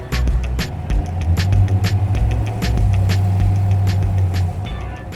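A 1966 Ford Fairlane with a prototype transmission, its engine running with a steady low rumble and a rough, pulsing idle, close and fairly loud, with no talking.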